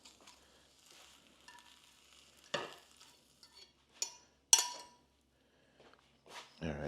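Eggs and sausages frying in a pan for breakfast, a quiet sizzle broken by a few sharp clinks and scrapes of a utensil against the pan, with a louder clatter near the end.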